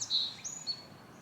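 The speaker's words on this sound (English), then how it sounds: "I hear some birds over there, but I'm not seeing anything." Birds chirp in short, thin bursts near a pond in a wooded park, faint and a little distant, with a couple of calls early on and quiet outdoor ambience after.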